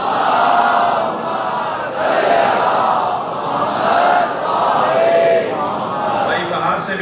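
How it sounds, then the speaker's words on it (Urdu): A crowd at a Shia majlis gathering recites salawat together in unison, loud and close, in several rhythmic chanted phrases rising and falling in waves. "صلوات پڑھیں علی کی ذات پر۔"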